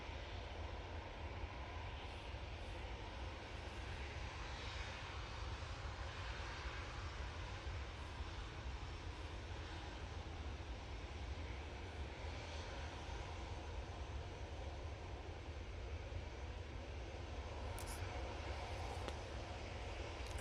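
A Ryanair Boeing 737-800 jet departs Manchester Airport for Dublin, heard as a faint, distant, steady engine roar and rumble that holds for the whole stretch without speech.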